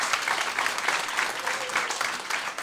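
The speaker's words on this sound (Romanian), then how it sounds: "chiar o să vă rog să dați o notă de aplauze pentru colegii mei" A comedy club audience claps for the comedian's colleagues, an even wash of many hands at close range, sustained without pause for a few seconds.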